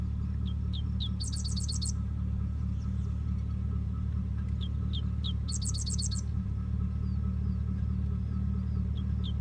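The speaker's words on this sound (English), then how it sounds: "It's amazing the birds are still chirping" Birds chirp in short repeated trills and scattered calls over a steady low rumble of engine noise, heard outdoors while a tornado is nearby.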